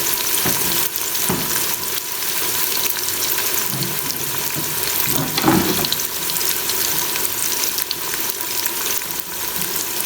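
Chopped onions for Karachi-style beef chana dal fry in hot oil in a pan, giving a continuous close sizzle with occasional stirring clatter and no voices.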